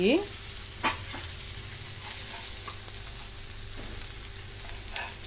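Pieces of fish, Raghu fish, frying in a pan, a constant close bright sizzle with occasional scraping stirs and light taps.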